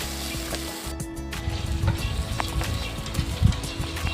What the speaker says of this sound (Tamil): இப்போ வெங்காயம் நல்லா வதங்கிருச்சு